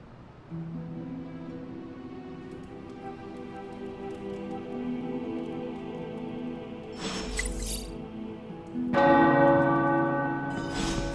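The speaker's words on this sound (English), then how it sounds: "The tower bells are ringing." Deep church tower bells in the video game Marvel Midnight Suns ring out with a long, sustained resonant hum, joined later by brighter, louder chimes that swell toward the end.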